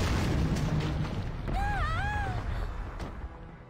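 A grenade blast in the video game Valkyria Chronicles Remastered, a loud rumbling boom that fills the opening seconds and slowly fades, with a whistling game effect rising and falling over the tail.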